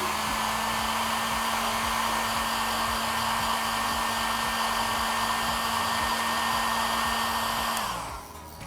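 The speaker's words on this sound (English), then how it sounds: "heat it or warm it up a little using a hair dryer, just slightly" A hair dryer blows with a steady, loud whir and a constant hum, warming makeup slightly, running without pause before switching off at the very end.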